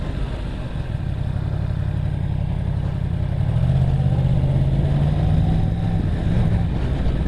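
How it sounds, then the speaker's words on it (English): A 2015 Yamaha R1 motorcycle engine running with a choppy throttle, a loud, close, uneven low rumble that rises into a steadier drone partway through. "see what I mean by the choppy throttle? Just wants to lunge everywhere."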